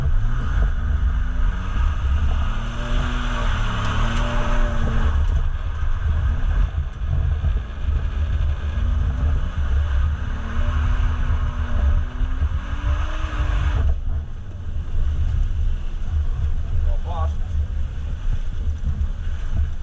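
A freshly built Volvo drift car's engine labours in third gear, a loud, steady low drone with rising and falling rev harmonics over constant wind buffeting, easing briefly before droning on.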